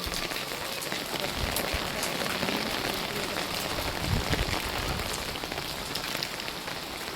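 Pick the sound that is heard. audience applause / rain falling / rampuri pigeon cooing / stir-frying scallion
rain falling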